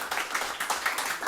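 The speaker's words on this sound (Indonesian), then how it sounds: "Kita berikan tepuk tangan yang meriah buat Yesus" A church congregation at a Sunday service applauds loudly for Jesus, with dense, steady clapping pulsing in waves throughout.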